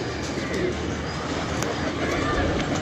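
A hobby flying pigeon perched nearby gives soft, faint cooing, half-buried under steady outdoor background noise and a man's speech.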